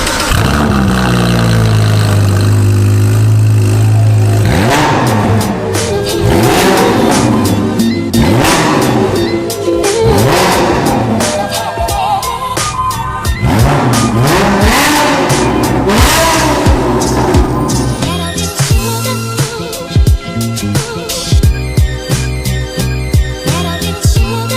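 A sports car's Novitec exhaust revs hard in repeated sharp bursts, rising and dropping in pitch, loud and close, with a crackling, throaty roar between blips.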